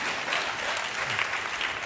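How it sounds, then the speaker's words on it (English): A handful of people clap in a small audience at a leadership and innovation talk, a thin, scattered patter of hands that runs steadily for a couple of seconds with no voices over it. "There's the three people clapping."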